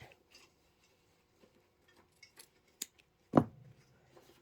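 Scissors snip through quilt block fabric near embroidery, giving a few scattered quiet cuts and one louder, sharper snip partway through, in a quiet room with no talking.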